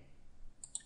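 Two sharp mouse clicks close together near the end, made while drafting a model in Autodesk Inventor 3D CAD, faint and isolated over quiet room noise.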